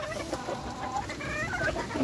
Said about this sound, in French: c'est la petite poule là qui le mange